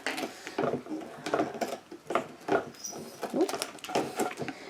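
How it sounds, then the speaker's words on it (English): A kitten chews and gnaws on a cardboard box nearby, giving an irregular, scratchy crunching and rustling that comes in short uneven bursts at a moderate level. "I apologize for the noise in the background. I have a kitten chewing on a box."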